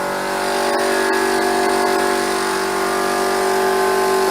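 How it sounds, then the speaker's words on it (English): Air compressor running in a garage during a Citroen 2CV rebuild, a loud steady motor drone with tonal hum and no speech. "There goes the compressor."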